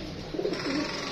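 Soft, low pigeon cooing, a short throaty burble rising and falling twice against a steady background hiss.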